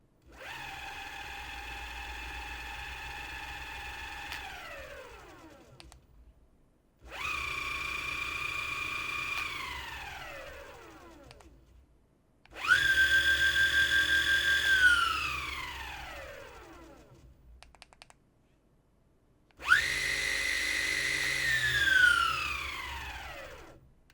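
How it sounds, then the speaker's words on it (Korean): Ownboard Zeus electric skateboard hub motor spinning a wheel unloaded: four separate whirring bursts, each a steady high electric whine that winds down in pitch as the wheel coasts to a stop, close and fairly loud. "모터 회전 소리와 속도감은 바퀴 휠로 대신 보여드리고"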